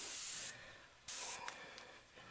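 An airbrush sprays paint in short freehand bursts, two loud close hissing blasts separated by a pause, then fainter brief puffs.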